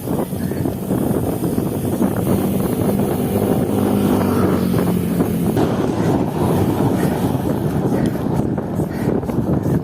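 Motorcycle engine droning steadily while riding on a first ride of the new year, loud and close, mixed with buffeting wind noise across the microphone.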